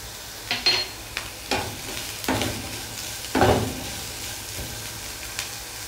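Mushrooms and chillies fry briefly in a pan, a low sizzle broken by several distinct scraping and stirring strokes of a utensil, close and fairly clear.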